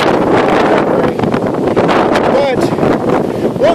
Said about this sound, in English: I know you're hearing the wind noise.